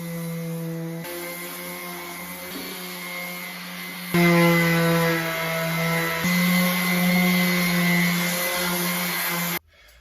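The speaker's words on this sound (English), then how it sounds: "we'll attack it with a sander" An electric sander strips paint from an old workbench outdoors with a loud, steady motor whine that shifts pitch as pressure changes and then stops abruptly near the end.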